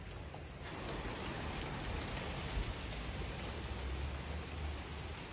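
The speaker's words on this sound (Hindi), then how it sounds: "बारिश इस टाइम बहुत ज्यादा तेज हो रही है" Steady, dense rainfall hisses continuously, a heavy downpour pattering on surfaces close by with no voices.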